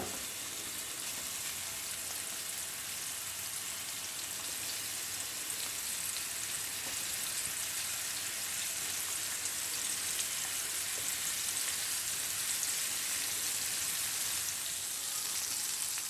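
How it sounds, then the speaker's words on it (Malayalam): Sardines in sesame oil fry in a pan, a dense, even sizzle and crackle that holds steady throughout, close and moderately loud, with no voices. "ഇനിയിപ്പോൾ രണ്ട് ബാച്ചായിട്ടാണ് ഇവിടെ വറുത്തെടുക്കുന്നത്"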